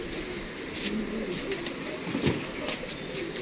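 Pet pigeons of a prized breed coo softly in short low calls, with faint chirps around them.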